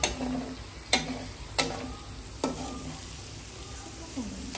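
Chicken being stirred in a hot frying pan for chili chicken, with a few sharp spatula scrapes and taps against the pan over a soft, steady sizzle, close by with no talking.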